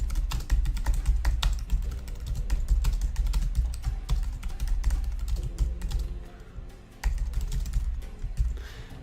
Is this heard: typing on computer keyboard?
yes